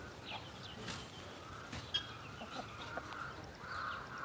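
Chickens cluck softly on a farm after being released to peck at grasses, with scattered low clucks over a noisy outdoor background, faint and somewhat distant.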